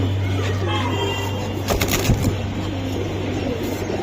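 Old-breed Sobji pigeons with boot-shaped beaks and light colouring coo softly in a low, steady murmur close by, with faint voices and background noise around them.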